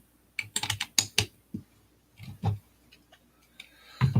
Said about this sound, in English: Sorry if you guys can hear the clicking of like me going to the next thing